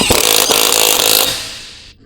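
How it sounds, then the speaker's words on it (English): Impact wrench with a deep 19mm socket tightening the lug nuts on a Honda Civic FK wheel: one loud, close, continuous buzzing burst with a hammering rattle, lasting just over a second before it winds down and stops. "Now with the 19 attached to an impact, tighten all lug nuts."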